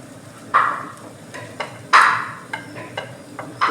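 Spatula scraping and stirring coriander, chili, garam masala and black pepper powders in a pan, for chickpea curry, in irregular short scrapes and taps with a faint sizzle underneath, fairly close, with no talk.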